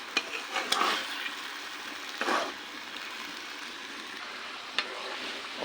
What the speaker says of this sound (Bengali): গরুর গোশতটা সাদা রান্নতেছি, এই জন্য কষায় নিলাম।